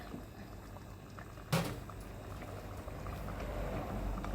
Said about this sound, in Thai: เดือดปุ๊บปะปุ๊บปะเลยเพื่อนดูนี่ เดือดปุปะ ปุปะ